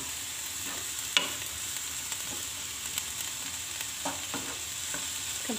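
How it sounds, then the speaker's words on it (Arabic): Filling frying in a pan with fat as it is stirred, a steady soft sizzle with occasional scraping and tapping of the utensil against the pan, close and unaccompanied by speech. "كنحركهم مزيان"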